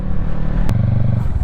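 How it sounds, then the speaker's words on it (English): The engine of a Yamaha MT03 small-capacity motorcycle hums steadily while being ridden, low and continuous, mixed with wind rush and a brief clatter partway through. "Engine sounds very gutless."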